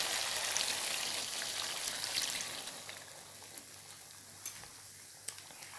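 Soybean curry being stirred in a pan on a medium flame just after water is added: a steady wet sizzle and scraping that is louder at first and then settles into a softer bubbling hiss.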